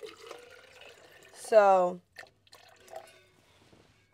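Water pours from a Stanley bottle in one short, steady burst of rising pitch, with a few faint drips and soft sounds of someone talking around it.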